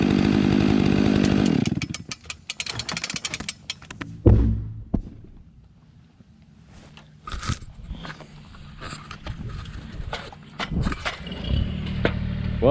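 A chainsaw cutting through a tree's hinge wood during rigging work: the saw roars steadily for about two seconds and then cuts off, followed by cracking, crunching wood and scattered knocks and rustles outdoors.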